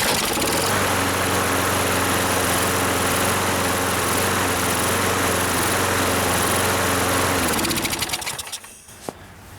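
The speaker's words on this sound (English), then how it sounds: "what you saw right there and that revving, it's a little bit of hunting" A Toro Super Recycler lawn mower with a 6.5 hp Briggs & Stratton engine, fuel having sat in the carburetor, runs loud and close with a steady buzzing drone and slight surging. It then sputters and dies near the end.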